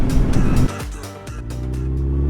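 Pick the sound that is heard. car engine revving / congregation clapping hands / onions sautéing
car engine revving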